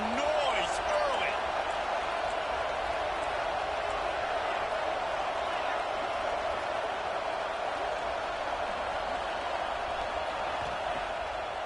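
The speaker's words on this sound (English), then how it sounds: "This crowd bringing the energy and noise early." Stadium crowd noise in a college football video game, a dense, continuous roar of many voices holding steady throughout, with a commentator talking over it.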